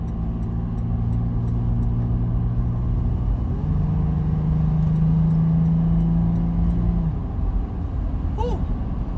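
A 2022 Toyota 4Runner TRD Sport with an aFe Momentum GT intake accelerates on the road, its engine droning steadily from inside the cabin with a rising note midway, over a constant rumble of road noise.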